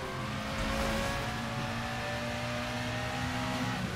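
A modded Lamborghini Veneno in the video game Burnout Paradise, its engine holding a steady, fairly quiet drone with faint whining tones throughout and no voices.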